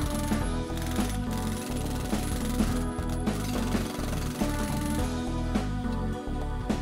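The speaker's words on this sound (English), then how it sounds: "investigated by the use of a jackhammer" A jackhammer breaking pavement during a repaving job pounds continuously and loudly, its rapid mechanical hammering steady throughout with slight variations in intensity.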